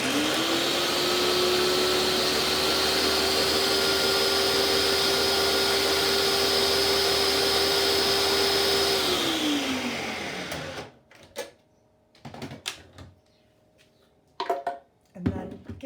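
Blender whizzing about a dozen fresh leaves with pine nuts, a loud continuous motor roar that drops in pitch as it winds down, followed by a few clattering knocks.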